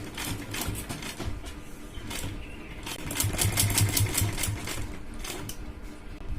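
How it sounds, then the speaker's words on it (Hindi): A sewing machine stitches a blouse sleeve in a steady, rapid mechanical whir with fast repeating needle ticks, running continuously and close by with no talking. "तो इसके ऊपर यहाँ से सिलाई लगाएंगे।"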